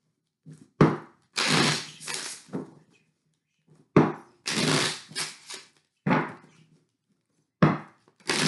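Playing cards are riffled and shuffled in repeated bursts, each a loud, close flurry of flicking lasting about a second, separated by soft thunks and short pauses.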